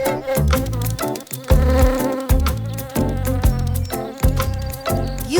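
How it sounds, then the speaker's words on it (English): A cartoon honeybee buzzes loudly and continuously over several seconds, its whirring drone mixed with busy, bouncy music. "Yep, you got it, Toto. It's a honeybee."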